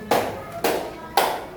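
A group of children claps in unison in a classroom, three sharp collective claps evenly spaced about half a second apart, close and clear.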